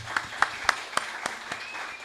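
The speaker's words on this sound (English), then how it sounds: "Let's give a big round of applause for Ricky Matthews for coming and helping us" A small audience at a mayoral forum claps in sparse, distinct hand claps, about seven sharp slaps spaced at a slow, steady pace in a room, fairly close, fading toward the end.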